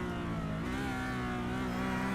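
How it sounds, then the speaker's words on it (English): Race car engine in a sim racing game on the Nordschleife, heard from onboard with a steady, loud mechanical whine whose pitch shifts slightly across a couple of seconds, with no voices. "Really hear the whine, all of the clicks and clunks, shifts through the gears."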